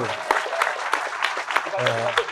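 Audience applause at a forum talk, steady clapping from a crowd with scattered voices and a brief tonal hum mixed in.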